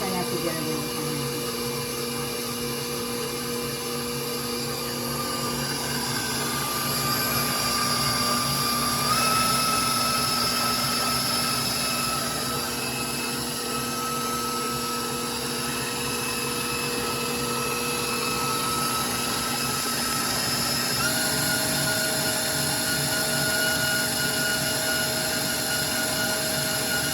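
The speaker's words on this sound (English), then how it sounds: "I like to use my KitchenAid, unless I have to get it in with my hands" A KitchenAid stand mixer kneads white bread dough with a loud, steady motor whine and shifting tones that run throughout, close by, with a voice faintly underneath.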